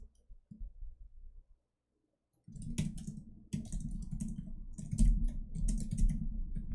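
Rapid, irregular clicking of typing on a computer keyboard during a coding session, close and fairly loud, starting after a short quiet gap and continuing in steady bursts.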